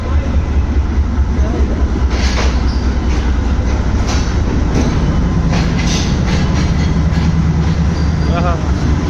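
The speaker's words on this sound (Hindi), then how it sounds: "तो देख रहे हैं आप ये ट्रेन कैसी गुजर रही है, धड़ाधड़।" Train rumbling through a cantonment railway station, loud and close with rhythmic clickety-clack of wheels over rail joints and brief squeals, continuous throughout; someone speaks over the noise.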